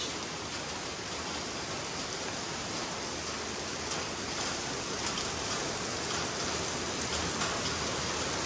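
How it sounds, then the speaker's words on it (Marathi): Heavy rain pours down in a dense, unbroken roar of hissing water that stays steady throughout, with no voices. "तुम्हाला दाखवतो किती जोरात पाऊस पडतो ते"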